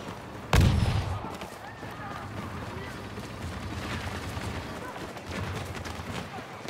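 A grenade blast in Star Wars Battlefront II booms once, loud and sudden, then rumbles away beneath continuous battlefield noise of distant gunfire and shouting voices.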